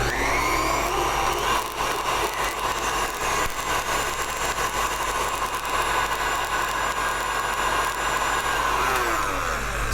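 Stand mixer beating cookie dough after two eggs and a teaspoon of vanilla are added, for key lime pie cookies: a steady, loud, continuous motor whir that holds unbroken throughout, with no talking.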